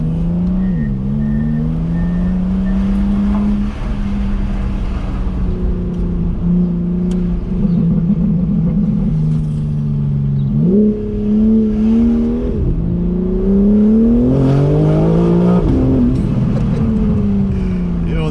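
A stage 2 tuned car pulls hard through the gears, engine note rising and dropping with each shift as it climbs in pitch, loud and close from inside the cabin, with voices over it.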